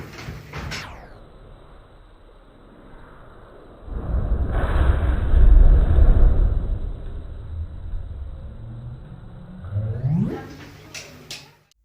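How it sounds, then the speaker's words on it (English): Candle wax combusting in a fire triangle demonstration bursts into a loud, rumbling whoosh of flame that swells for several seconds and then fades, with a quieter flare just before the end. "candle wax is combusted as a completing the fire triangle demonstration"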